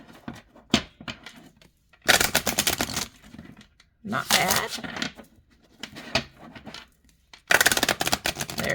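Oracle cards are shuffled in several loud, crisp riffling bursts, up close, with brief pauses and a short spoken remark between them.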